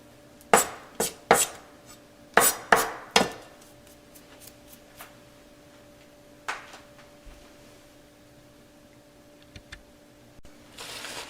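Knife chopping baked ham on a cutting board: a burst of sharp, close chops in uneven rhythm, then a few scattered lighter taps, with a steady low hum beneath.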